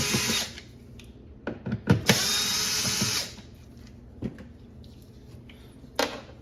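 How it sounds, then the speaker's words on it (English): Two Torx screws being driven out of a battery box cover on a Porsche GT4, two short close-up bursts of power driver whir among light metallic clicks and handling sounds. "we gotta take these two Torx screws out here and here to get this box out"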